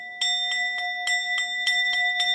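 A bell rings very close to the microphone, struck about eight times in a steady rhythm with bright sustained overtones hanging between strikes.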